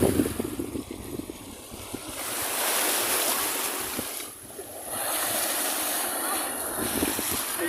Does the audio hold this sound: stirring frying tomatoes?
no